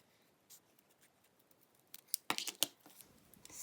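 Scissors snipping paper into a flower petal shape: a few faint, sparse cuts early on, then a quick cluster of sharper, louder snips near the end, close and alone in a quiet room.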